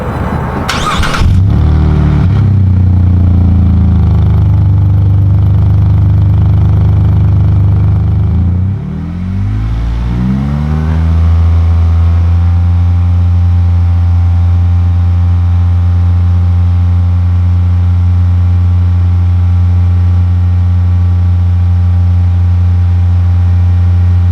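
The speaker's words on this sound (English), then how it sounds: "revving your vehicle at half of whatever it redlines at" A pickup truck engine starts with a sharp burst and then holds a steady, loud rev at about half its redline, droning evenly for a long stretch.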